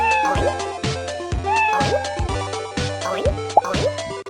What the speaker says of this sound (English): I think the cat is nice.